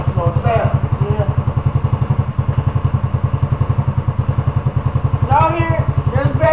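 Right after its first start-up, a motorcycle engine idles with a steady, rapid, close thumping rhythm throughout, and people talk over it at the start and again near the end.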